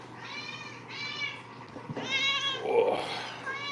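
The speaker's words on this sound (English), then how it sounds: "It's day after day. Meow after meow." A domestic cat meows repeatedly at close range, a run of drawn-out, tonal cries with short gaps between them, while a person speaks briefly.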